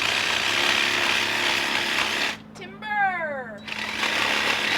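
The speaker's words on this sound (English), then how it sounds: "show you with the Sawzall what she's going to do with this cactus" A reciprocating saw (Sawzall) cuts through a cactus with a harsh, buzzing rasp. The saw drops out for about a second while a voice is heard, then the cutting starts again.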